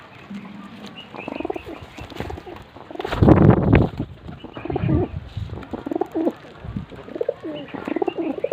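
Pigeons being fed grain coo in soft, throaty, repeated calls at close range, with a louder flurry of fluttering and scuffling partway through.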